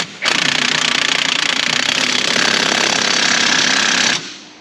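A power tool torques down a bolt on the front end of a Ford Mustang GT 4.6, a loud, close, continuous rapid hammering rattle lasting about four seconds before stopping abruptly.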